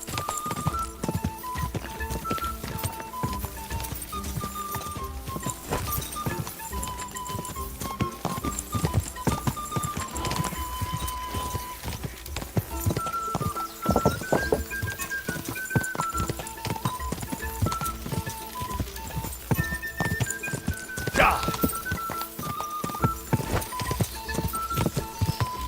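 Hoofbeats of a horse galloping in Kingdom Come Deliverance 2, a steady driving clip-clop running the whole stretch over game music, with brief neighs and occasional voices breaking in.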